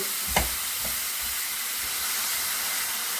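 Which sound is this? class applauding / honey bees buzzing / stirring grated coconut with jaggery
stirring grated coconut with jaggery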